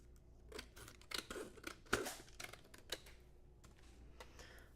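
Scissors cut along the bottom edge of a foil-covered card sheet, heard as a close series of crisp snips and crunches with a louder snip in the middle, alone and quiet.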